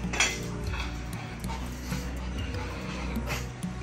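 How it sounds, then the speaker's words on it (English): Excited pug dogs whimper and let out short high yips over breakfast, several thin cries scattered through a steady indoor background, close by. "One excited dog."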